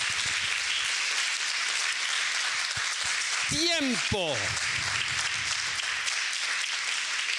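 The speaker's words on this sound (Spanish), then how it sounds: "Dale un aplauso." A church congregation claps steadily through a sermon, a sustained wash of hands with a few short voiced exclamations or cheers rising over it midway.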